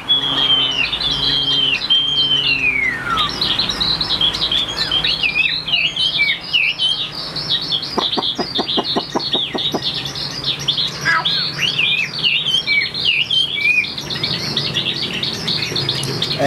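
A caged Chinese hwamei songbird sings continuously and loudly up close, with varied whistles, rapid trills and a run of sharp repeated chirps partway through, and no voices over it.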